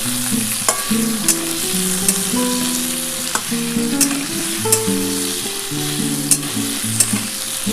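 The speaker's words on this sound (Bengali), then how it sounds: "একটু লাল লাল করে ভেজে নিই" Potatoes fry with whole cumin and dried red chilies for a cauliflower dish, giving a steady close sizzle punctuated by periodic stirring knocks, while a tonal melody plays underneath.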